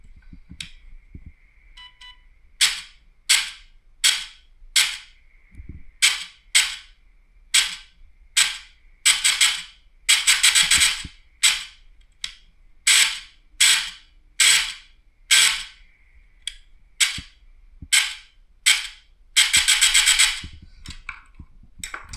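A VFC MP5 airsoft gun firing with pre-cocking, a long series of sharp, close single shots at an uneven pace, several spaced apart and a few quick double bursts over a faint background hum.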